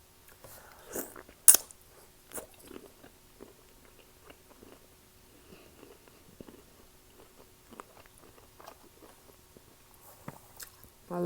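Shrimp in a butter-based sauce being bitten and chewed close to the mic during a mukbang, with one sharp crunchy bite early on followed by soft, irregular wet chewing and smacking, alone without talk.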